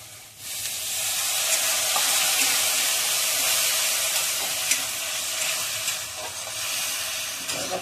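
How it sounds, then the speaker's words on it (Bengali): Spice paste sautéing in a pan with salt and a splash of water, giving a loud, continuous hissing sizzle with steam, plus occasional faint stirring scrapes. "মশলাটা কষাই নেবো ভালো করে"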